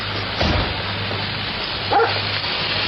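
A dog gives two short, slightly muffled barks about one and a half seconds apart over a low steady hum.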